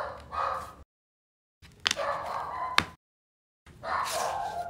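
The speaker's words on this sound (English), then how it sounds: "I don't know what that dog is barking at." A dog barks in short bursts in a room where a leather wallet is being riveted, the sharp yaps separated by silent gaps.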